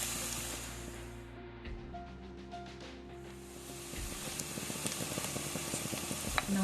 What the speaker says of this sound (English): So you just fry on high flame for quite some time.